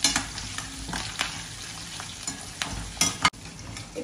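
Garlic, onion and curry leaves sauté in a hot pan for a Tamil sundakkai vathal kuzhambu, giving a steady close sizzle broken by scraping stirs and occasional sharp pops of spattering oil.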